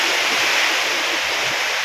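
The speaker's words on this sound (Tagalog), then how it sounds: "Ang lakas ng ulan, no?" Heavy typhoon rain pours down on a farm, a dense, loud, continuous hiss with no breaks and nothing else audible through it.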